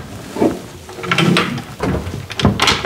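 Wooden drawers of an intricate antique Dutch bureau table sliding open and shut, several dull scraping thumps and knocks close up, loud and alone without speech.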